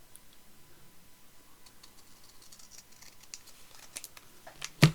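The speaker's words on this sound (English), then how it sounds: "So I'm just going to cut a little bit off the bottom of here." Scissors snip through sticker paper in a quiet crafting session, a rapid run of small close cuts that ends in a louder final snip.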